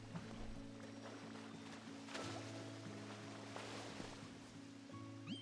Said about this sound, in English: The sound of the waterfall you made me is so relaxing.